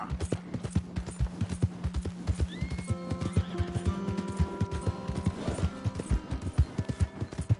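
Hooves clip-clop in a steady rhythm while a horse lets out a long whinny partway through, from Red Dead Redemption 2, with a synthetic, game-like quality.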